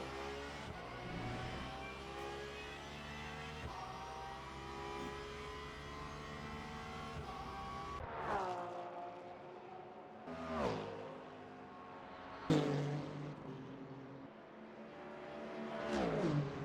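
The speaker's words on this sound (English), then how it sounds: "The car has gone around." A racing car circles a track, its engine tone rising and falling through repeated revving sweeps and downshifts. There is a long howl at first, then several sharp passes and surges at moderate distance, with no talk.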